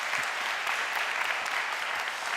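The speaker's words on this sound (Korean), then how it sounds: "우리 멘토님들께도 우리 한번 박수 한번 보내드리겠습니다." A church congregation at a Korean university-group worship service claps for its mentors, producing a steady, even wash of applause that lasts the whole moment with no talking.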